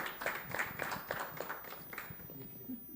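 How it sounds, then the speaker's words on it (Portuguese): Audience members at a business summit panel in Portugal applaud a municipal councillor, with distinct claps that thin out and fade toward the end, fairly faint. "Uma salva de palmas."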